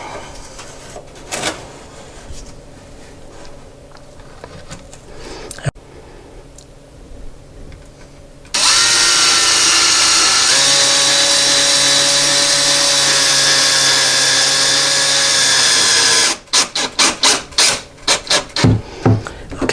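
A power drill drives a screw through a wooden shim into a bathroom vanity, a loud, steady whirring burst of about eight seconds, close up, with scraping and handling noises before it and short pulses of the drill after it.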